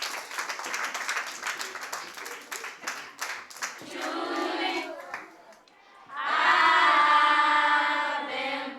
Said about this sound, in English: Now clap for the drama team.